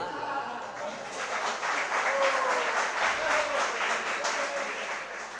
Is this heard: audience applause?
yes